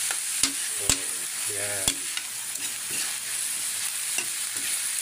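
Dried anchovy adobo fries in a pan under a constant soft sizzle while a utensil stirs it, giving a few sharp scraping clicks in the first two seconds. A voice briefly speaks.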